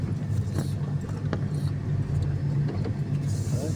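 A car rolls through Sunken Circle park grounds, its engine a steady, fairly close rumble with low drone throughout, set against open outdoor ambience with no talk.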